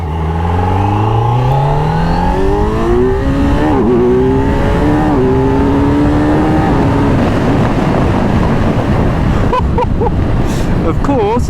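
A 2025 Kawasaki Z900 motorcycle accelerating hard, its engine note rising steadily through the gears with brief dips at the shifts, loud and close under heavy wind noise.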